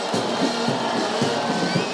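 Crowd noise at a sporting event with a Nigerian contingent, a steady roar of cheering voices with faint rhythmic swells, moderately loud and continuous throughout.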